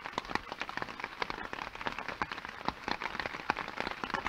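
Rain falls steadily during an outdoor silent vigil beside a flame, a dense, continuous patter of drops hitting the ground, close and even throughout with no other sounds.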